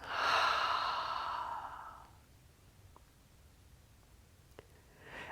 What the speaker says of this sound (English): Breathing it out.